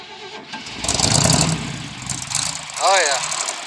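A Chevrolet C65 truck engine with a new exhaust cranks and catches on a cold start, then runs rough with a rising whine near the end; voices talk over it.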